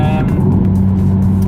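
An Audi TT 1.8 engine on a race track at Blyton drones loud and close, a steady high-revving tone with a faint whine, running continuously without a break.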